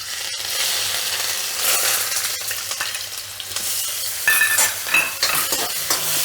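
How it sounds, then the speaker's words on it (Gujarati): Garlic sizzling in hot oil as it is stirred, a steady bright frying hiss with scraping and clinking of a utensil against the pan, no voices over it. "તેલ આપણું ગરમ થઈ ગયું છે હવે એમાં આપણે પહેલાં લસણ એડ કરશું"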